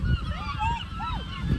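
Seagulls call loudly outdoors with a few rising and falling cries over low background rumble, and faint voices are nearby.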